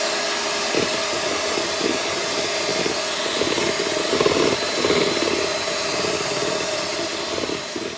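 An electric mixer whisks a mousse mixture with a steady, loud, continuous whirring drone and faint rhythmic scraping in the bowl, with no speech over it.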